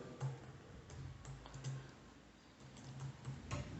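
A computer keyboard is tapped while a file name is entered, producing sparse, quiet, close clicks in short irregular bursts over a faint background hum.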